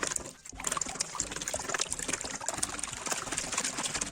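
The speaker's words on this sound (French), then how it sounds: "On fouette les 2 œufs" Two eggs are whisked in a bowl for donut batter, a quiet continuous stream of wet clicking and rapid scraping beats with no talking.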